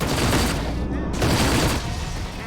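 Dense spaceship gunfire in the space combat game Rebel Galaxy Outlaw rattles loud and continuous, a rapid barrage filling the moment with a brief dip midway.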